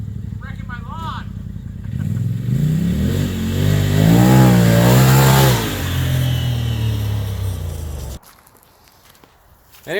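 A Polaris RZR Turbo side-by-side drives on a farm, its engine building into a loud wavering rev up close, then settling to a steady drone before cutting away abruptly; a voice is heard briefly at the start.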